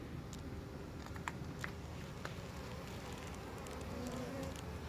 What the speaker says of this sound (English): a bee landed on my phone